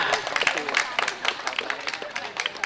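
Wedding guests clap on cue at a reception, a lively burst of uneven handclaps with some crowd murmur, moderately close and steady across the moment.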